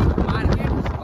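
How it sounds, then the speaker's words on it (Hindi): Strong wind buffets a microphone while riding on a crowded vehicle heading to a vegetable market, a loud, continuous gusting roar with an indistinct voice partly buried in it. "बहुत तेज हवा है भाई"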